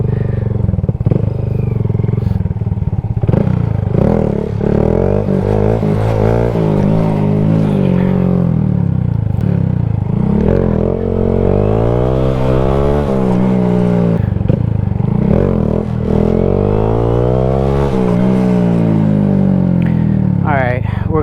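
A motorcycle engine revs hard and repeatedly during wheelies, its pitch sweeping up and dropping through gear changes at close range, with someone talking over it at times.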